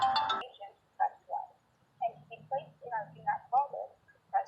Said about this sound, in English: got a phone call coming in